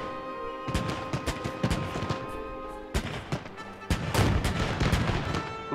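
Rapid bursts of 20 millimeter cannon fire in the Arma 3 game during a night parachute-drop battle, loud and close, repeated in clustered volleys with heavy booming impacts throughout.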